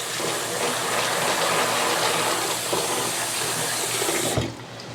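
Chickpeas being rinsed under running water give a dense, steady rush of flowing water, close and moderately loud, before the flow cuts off abruptly near the end and leaves a quieter tail.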